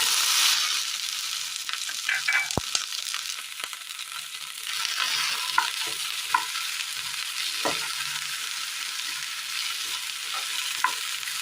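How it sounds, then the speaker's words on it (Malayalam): Chopped okra sizzles in hot oil in a pan, a constant frying hiss broken by scraping and clacking as the pieces are stirred with a spoon, close and clear, with no talking. "അടുപ്പത്തൊരു പാൻ വെച്ച് കൊടുത്ത് അല്പം എണ്ണ ഒഴിച്ചു കൊടുക്കാം ഇതിലേക്ക് അരിഞ്ഞു വെച്ചിരിക്കുന്ന വെണ്ടയ്ക്ക ഇട്ട് കൊടുക്കാം"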